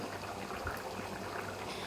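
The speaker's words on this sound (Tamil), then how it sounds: "குழம்பு நல்லா தண்ணி ஊற்றிட்டேன், நல்லா கொதிக்க ஆரம்பிச்சிருச்சு." Kara kuzhambu curry with added water coming to a boil in a pot, a steady faint bubbling and simmering hiss that runs continuously with no talk.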